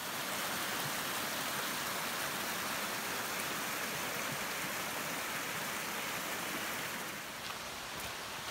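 A creek flows beside a campsite on the Appalachian Trail in Virginia, a steady broadband rush of water that stays even throughout and eases slightly near the end.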